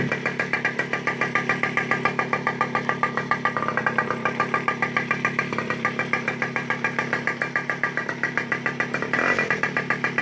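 A restored MBK 51 Roadster moped engine runs steadily nearby, putting out a rapid, buzzy two-stroke putter with slight revving and a brief change in tone near the end, and no voices.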